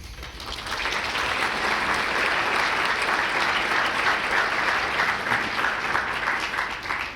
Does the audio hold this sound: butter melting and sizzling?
no